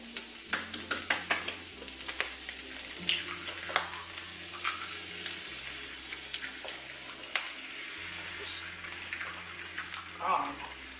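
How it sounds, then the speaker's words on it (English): Eggs cracked into a buttered pan sizzle and fry steadily, with faint clinks and stirring under a low background hum, close and moderately quiet. "And now we're gonna crack our eggs on top of this."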